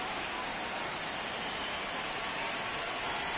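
Rain falls on a baseball field in MLB The Show 26 as a dense, steady hiss of close raindrops, constant and alone for a few seconds.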